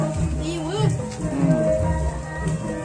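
Steady rain falls as guests arrive at a wedding celebration, a continuous loud patter beneath people talking nearby.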